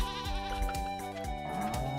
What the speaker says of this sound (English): Why do I hear baby goat?